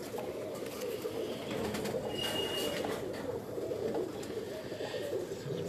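Pigeons cooing on a rooftop loft where Sialkoti pigeons are kept: soft, repeated low coos from a few birds over a quiet background, fairly close but gentle.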